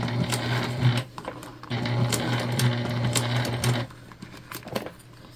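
A sewing machine stitching clear jelly vinyl in two rapid mechanical bursts with a short pause between, close and fairly loud, then a quieter stretch of handling noise.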